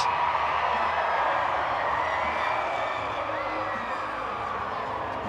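A large Samoan crowd at a rugby league match between the Kiwis and Samoa in the 2023 Pacific Championships, a loud, continuous roar of cheering and whooping with broadcast commentary over it.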